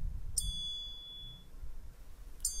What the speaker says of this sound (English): the metallic glass is the closest that I could find to a bell